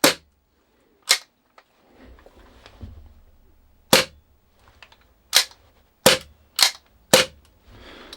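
An ASG CZ SP-01 Shadow all-metal airsoft gas pistol firing, sharp loud cracks spaced irregularly, about seven shots with quiet handling noises in between and no talk.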